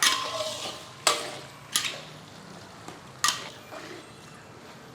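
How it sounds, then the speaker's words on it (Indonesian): Spring onion and onion being stir-fried in a pan for a Hainanese chicken dish: a few sharp utensil scrapes and clinks at irregular intervals over a faint, steady sizzle, close and moderately quiet, with no talking. "Kita aduk-aduk lagi, kita tumis sampai wangi."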